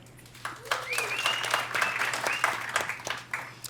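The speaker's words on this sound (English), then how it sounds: "So a round of applause for Amanda." An audience at an investors summit applauds speaker Amanda Terry, with moderate, scattered clapping from a modest crowd, partly overlapped by a voice talking.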